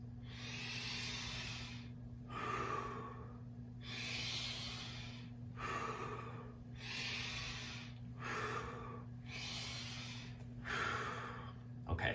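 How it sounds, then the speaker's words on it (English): Slow, deliberate inhales during a breathwork exercise come as six breathy, airy draws spaced about two seconds apart, close and soft over a low steady hum. "what you see me doing here is breathing in"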